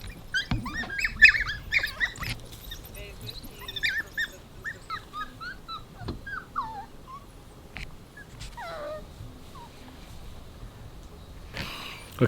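African painted dog pups emerging from their den with their mother give high, squeaky whimpers and yips in scattered bursts, close by, with soft rustling between calls.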